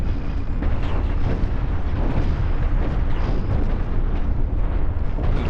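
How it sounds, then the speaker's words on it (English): Side cannons firing in the space-ship building game Cosmoteer, a dense, continuous barrage of loud booming blasts and rumbling impacts that overlap without pause. "now you're in range of my side cannons"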